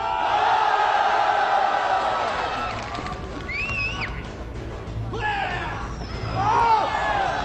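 A crowd at a Sanda versus Muay Thai kickboxing bout shouts together in a loose, unified cheer, with bursts of voices rising and falling over a steady roar of the arena audience.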